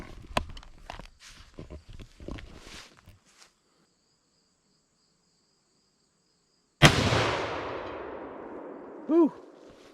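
A .308 rifle fired once from a lead sled rest while being sighted in outdoors: a single loud, sharp blast with a long ringing decay, preceded by faint clicks and handling noises and a brief quiet pause.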